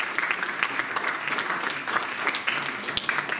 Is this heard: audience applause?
yes